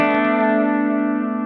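Electric guitar on a Squier J Mascis Jazzmaster through its humbucker pickup with distortion, one loud sustained chord ringing out steadily after a sharp attack, no talk.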